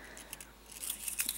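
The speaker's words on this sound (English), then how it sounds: "just going to cut off some wire" Scissors snipping thin coil wire for a vape build, faint close clicks and a few sharp crisp cuts, quiet and alone.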